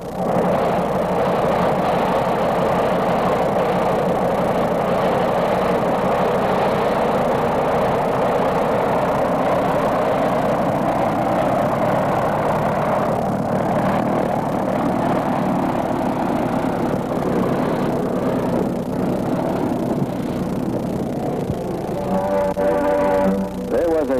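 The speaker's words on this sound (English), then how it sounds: "This one is equipped with a Continental R670 of 220 horsepower" A Pitcairn Mailwing biplane with a 220-horsepower Continental R670 radial engine running steadily, a loud continuous droning rumble that holds throughout the clip.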